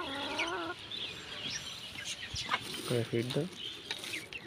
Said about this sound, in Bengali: এই যে আমাদের মুরগি হাঁস একসাথে দেখো, এরা সকালবেলা খুদ খাচ্ছে